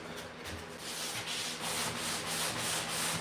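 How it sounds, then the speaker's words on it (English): Steady hand sanding of drywall joint compound, a continuous close scratchy rasp with a gently pulsing stroke rhythm and no voices. "a real mudder would take the time to sand that down and feather it back in with 3 coats of mud"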